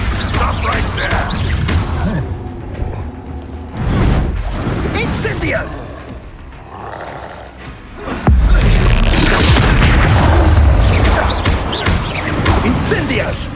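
A fire spell cast in Hogwarts Legacy combat bursts out in whooshing, crackling blasts, the loudest flaring sharply partway through, amid battle noise and spoken lines.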